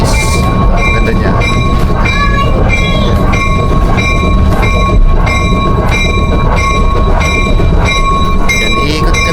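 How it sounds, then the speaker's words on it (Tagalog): A restored 1920s historic train, number 23, running along a lakeside route, a loud close steady rumble with rhythmic rattling and metallic clanks throughout. "So nandito kami sa historic train number 23."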